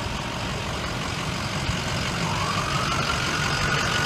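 FDNY fire apparatus engine idling at the scene of a high-rise fire in Harlem, a steady low rumble that is loud and continuous throughout, with a faint rising tone toward the end.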